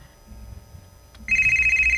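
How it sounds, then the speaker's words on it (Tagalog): Cellphone ringtone that cuts in suddenly after a quiet stretch of faint background noise, then a loud steady pulsing electronic ring that carries on to the end. "Ang akong cellphone."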